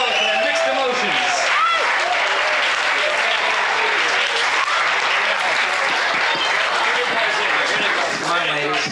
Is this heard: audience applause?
yes